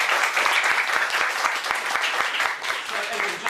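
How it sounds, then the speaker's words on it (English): Audience applause welcoming a guest animator at a London animation club gathering, close, lively clapping from a modest crowd with distinct individual claps, steady for a few seconds. "can I have a big round of applause for Edwin?"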